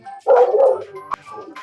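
A puppy barks indoors, a close, loud burst of yips and woofs followed by softer whimpering and a short sharp sound, with no talk.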